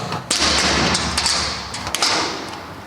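A heavy door swings open into a school bomb shelter bunker in Ukraine, giving a solid thud followed by a few tapping knocks and a hollow, noisy room tone.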